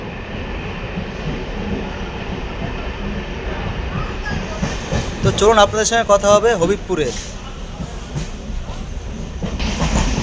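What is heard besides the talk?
train leaving Fulia station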